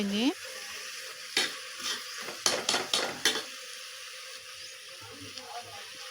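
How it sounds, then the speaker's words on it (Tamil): Chicken with ginger and garlic frying in a pan for chicken pasta, a quiet steady sizzle interrupted by a burst of scraping, clattering stirs with a utensil against the pan. "देखिए हमारा चिकन अच्छे से भुन रहा है"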